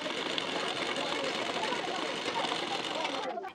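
A sewing machine runs a continuous stitching pass along a blouse hook strip, a steady close mechanical whir that cuts off sharply just before the end.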